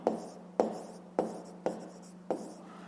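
A pen writes on paper in five evenly spaced strokes, each a sharp scratch that fades quickly, close and clear over a low steady hum.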